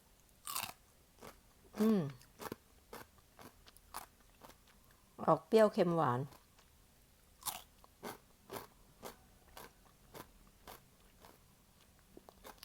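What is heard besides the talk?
crunchy pickled cucumber being bitten and chewed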